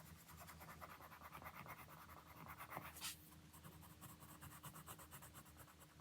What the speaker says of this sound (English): enjoy some ASMR pencil scratching noises